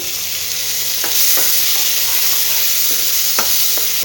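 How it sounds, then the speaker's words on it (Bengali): Potatoes and small tomatoes frying in a pan with salt and spice mix, a loud, steady sizzle with a few soft stirring scrapes, close and continuous, with no talk. "একটু ঢেকে ঢেকে ভাজবো, তাহলে আলুগুলো সেদ্ধ হয়ে যাবে।"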